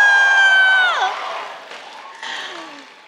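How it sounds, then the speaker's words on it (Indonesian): Crowd cheering and whooping at the opening ceremony of a digital and imaging art festival, loud at first and then fading over a few seconds, with high shouts rising above the noise. "bagilah sorak sikit"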